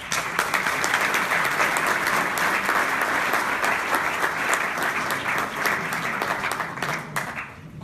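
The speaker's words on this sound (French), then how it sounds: "Sous vos applaudissements à cette tribune, Marie-Christine Gauche" Applause from a conference audience at the opening of a summer session of the French national union of bailiffs: sustained, loud clapping from a large hall that stays even for several seconds, then thins and fades near the end.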